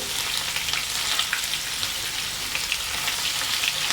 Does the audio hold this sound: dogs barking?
no